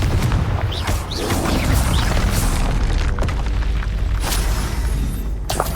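Spell explosions from Hogwarts Legacy: Confringo, Stupefy and Repulsor casts in combat. They come as a dense run of booming blasts and bursts under a steady rumbling roar, loud and continuous with sharp crackling hits scattered throughout.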